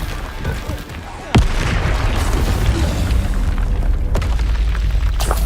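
Loud spell blasts from the video game Hogwarts Legacy, a sharp boom near the start followed by a sustained rumbling roar of fiery explosions, with a couple of further sharp cracks later on.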